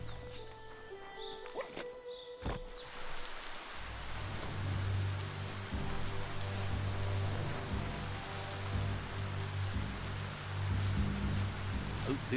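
Rain falls steadily in the video game Biomutant, a dense continuous hiss of drops on surfaces. A few sharp clicks and low tones come before the downpour builds to full strength.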